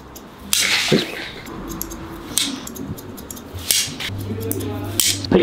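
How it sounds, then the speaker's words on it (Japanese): Scissors snipping hair vertically at the nape during a salon haircut, a series of crisp close metallic cuts in an irregular rhythm, with faint comb and handling sounds between. "縦にハサミを入れる。"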